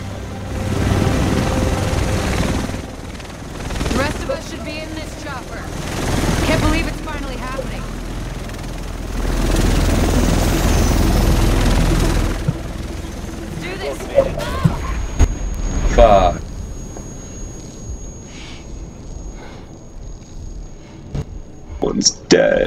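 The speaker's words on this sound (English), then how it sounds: "The chopper's here!" A helicopter arrives in the video game The Division, its heavy rotor thump swelling loud and close over several seconds, then fading into quieter game sounds with sharp clicks.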